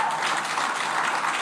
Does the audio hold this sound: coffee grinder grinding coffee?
no